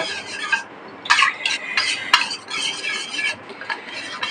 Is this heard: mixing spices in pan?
yes